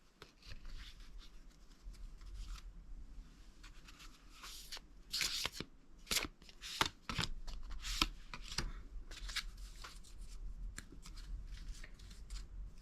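Angel cards are handled and shuffled, giving soft, close riffling and flicking patter with a few sharper snaps in the middle.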